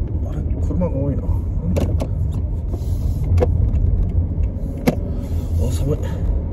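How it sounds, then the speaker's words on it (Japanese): Cars moving around a highway service area on a cold day give a steady, close low rumble of engines and tires, broken by a few sharp clicks and thumps, with a voice talking faintly over it at times. "あれ車が多いな。"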